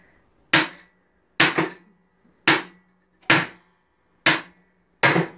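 A star nut being driven into a bike steerer tube with a Park Tool TNS-4 setter, heard as six sharp, loud metallic hammer strikes spaced about a second apart, each ringing briefly before fading, with no talk.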